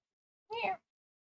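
A cat gives a single short meow indoors, close and clear, lasting about a third of a second amid otherwise quiet surroundings.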